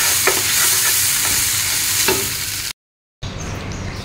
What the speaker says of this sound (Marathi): आणि कांदा देखील तेलात मीठ टाकून परतून घ्यायचा चांगला